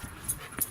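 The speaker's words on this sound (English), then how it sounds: "These are the dogs." Dogs on a family homestead give soft, brief whimpers and yips, two short high whines a fraction of a second apart, faint and fairly close.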